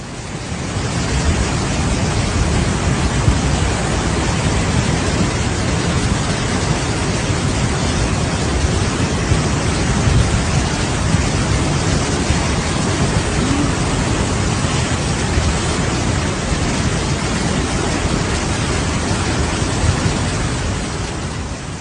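Heavy, relentless rain pours before dawn over Oahu and Kauai during Hawaii flash floods, a dense, steady roar that stays loud and unbroken throughout with no voices.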